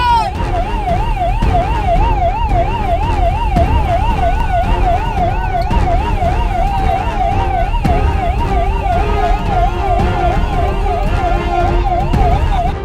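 A forest department vehicle's siren wails in a fast, steady warble at night near Cholagar Thotti village by Thalavadi in Erode district, sounded to drive three wild elephants back into the forest; loud and continuous over engine and background noise.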